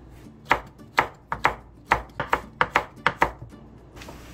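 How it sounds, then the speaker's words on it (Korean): A knife chops through washed pumpkin leaf stems in a steady run of about a dozen crisp, close cuts, each a sharp tap with short pauses between. "줄기 부분을 이렇게 다 씻었으면 이렇게 잘라주셔요"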